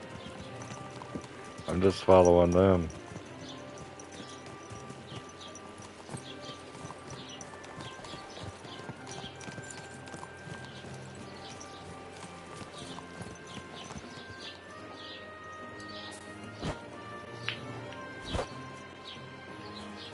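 Horse hooves clip-clop in a steady rhythm while riding in the medieval game Kingdom Come: Deliverance II, with a brief loud flurry and whinny early on, continuing faintly under characters' talk.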